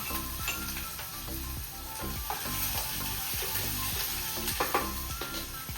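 Chana dal, urad dal and peanuts fry in a pan with a continuous close sizzle and occasional stirring scrapes, all over steady background music.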